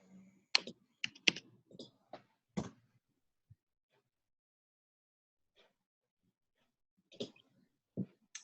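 Bursts of quiet keystrokes on a computer keyboard while an email address is typed, clustered clicks at the start, then a long pause and a few more taps near the end.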